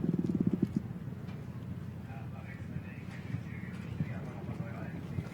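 Hooves of a show jumping horse clip-clop on the arena footing during a World Cup qualifier, a quick steady beat up front that fades under continuous commentary talk and crowd ambience.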